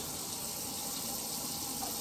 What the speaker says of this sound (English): I don't know why I'm measuring out the water.